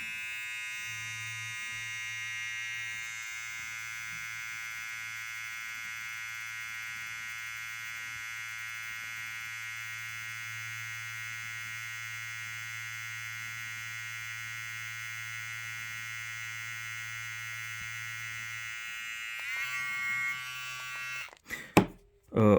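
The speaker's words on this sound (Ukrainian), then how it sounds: "вмикаю вам першу швидкість, це в нас має бути 7000 обертів" A VGR V-990 hair trimmer runs at its first speed, a steady close electric buzz with a constant pitch that holds for about twenty seconds, then shifts briefly and ends in a few handling clatters.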